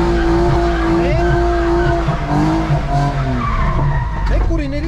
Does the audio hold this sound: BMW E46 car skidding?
yes